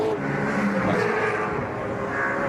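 Touring race cars and smaller 2-litre cars passing at Lakeside raceway, a sustained engine roar with a rising then falling pitch as cars go by.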